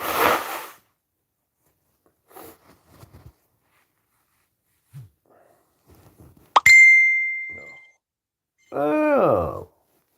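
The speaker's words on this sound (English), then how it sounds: "A text message come in." A text message notification chimes once on a phone during a livestream: a sharp ding that rings out and fades over about a second, between stretches of quiet and murmured speech.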